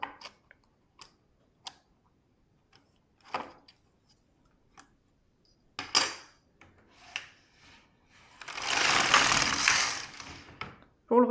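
A Silver Reed LK150 knitting machine works a row while knitting a reinforced sock heel: scattered close mechanical clicks and ticks, then a longer rasping slide of the carriage across the needle bed.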